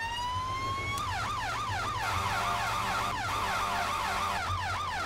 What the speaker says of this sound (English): This thing doesn't even have brakes, but we're just going to throw the siren.